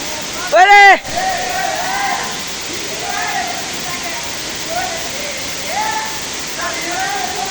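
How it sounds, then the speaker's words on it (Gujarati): A full monsoon waterfall pours with a steady, close, rushing roar, a brief high whistle-like tone near the start and voices speaking intermittently above the water. "જોઈ શકો છો કેટલો મસ્ત ધોધ પડે છે"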